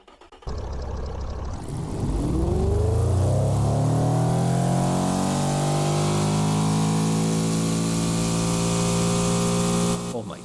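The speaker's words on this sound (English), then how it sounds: "That's 723 horsepower, 16-cylinder engine." A 723 horsepower 16-cylinder car engine in the Automation/BeamNG video game kicks in abruptly and revs upward, its pitch climbing steadily before holding at a loud high whine, then cutting off near the end.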